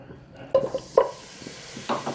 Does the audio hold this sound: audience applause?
no